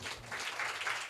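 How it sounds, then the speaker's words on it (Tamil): A congregation in a church gives a short round of applause for a performer, a brief, soft patter of clapping without talk. "அவருக்கு அவர் கைத்தட்டு கொடுப்போமா?"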